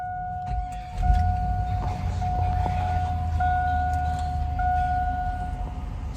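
A 2001 Chevrolet Suburban engine starts with a low rumble and settles into a steady idle. Faint tonal whines sound over the idle and briefly drop in and out.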